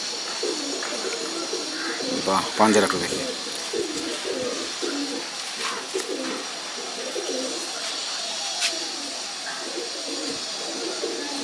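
Domestic pigeons, including a Kalshira pigeon, coo softly in a loft under ongoing conversation, with a brief fluttering burst near the start.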